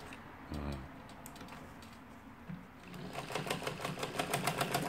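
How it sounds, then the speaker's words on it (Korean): An antique late-1960s Bokpyo sewing machine, freshly repaired and fitted with a motor, starts up and stitches with a rapid, even mechanical ticking that grows louder and steadier toward the end. "아주 오래된 재봉틀 1960년대 후반에 생산된 것으로 보여지는 복표 미싱 수리를 마치고 박음질을 하는 영상이었습니다."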